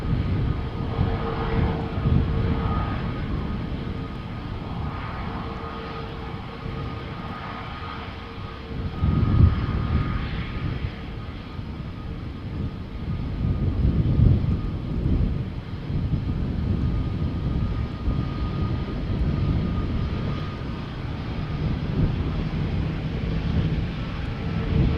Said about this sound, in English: can also hear, because of the wind, what sounds like an GE90 getting started.